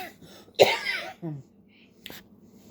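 A person with a pollen-related cough gives one sharp, harsh cough close to the microphone, then a throaty rasp and a brief faint breath, in a quiet room.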